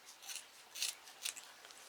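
Small scissors cut through a plastic plant pot in three distinct snipping crunches, quiet and close with nothing else heard.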